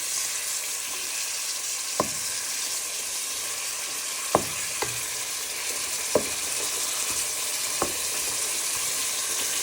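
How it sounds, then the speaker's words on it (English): Pork pieces fry in a hot pan with a steady, bright hiss of sizzling fat, broken every couple of seconds by a sharp knock or scrape of a utensil against the pan, close and without voices. "So our pork is nicely cooking."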